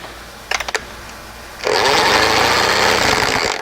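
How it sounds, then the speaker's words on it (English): A few quick clicks, then a loud electric drill whirs steadily at close range, spinning the carburetor linkage of a 1974 25 hp Johnson outboard continuously until the end. "Throw the drill on there, spin it around, see if it closes it."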